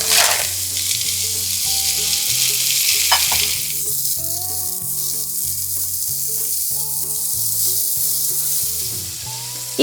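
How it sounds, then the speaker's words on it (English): Ground beef browning in a pan with caramelized onions for sloppy joes, a loud continuous sizzle and crackle of frying meat, with soft background music and no talking. "Add the meat, breaking it into small crumbles,"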